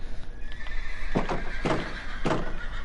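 Horse neighs from Minecraft: three separate whinnies spaced about half a second apart, each a loud, bright burst standing out over steady low ambient hum, with no talking.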